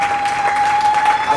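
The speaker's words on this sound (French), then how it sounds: "Applaudissons très fort pour lui." An audience at a ceremony gives a short burst of steady clapping for a witness, a dense round of applause with a faint constant tone running underneath.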